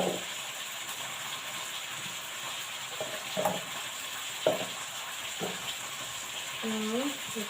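Rattan shoots are dropped one at a time into a small cooking pot over steady sizzling and hiss from the stove, each landing as a soft knock spaced a second or so apart.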